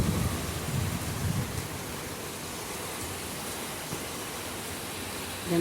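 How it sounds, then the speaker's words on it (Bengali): Heavy rain pours down in Karnataka during a wet-season storm, a steady broadband hiss of water that holds at an even level, with no voices. "কি জোরে জোরে বৃষ্টি হচ্ছে"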